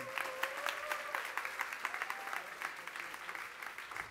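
A church congregation at a youth service claps together in a sustained, even round of applause, heard from a distance and fairly quiet, with a faint tonal hum running beneath the clapping.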